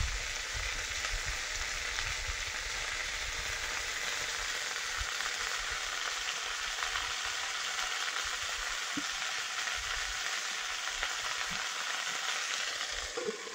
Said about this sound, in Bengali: এবার ঢেঁড়সটা ভাজা করে নেব।